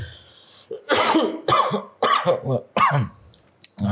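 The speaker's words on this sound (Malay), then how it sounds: "batuk sikit" A string of about five harsh, close coughs comes in quick bursts with short gaps between them, ending in a faint final hack.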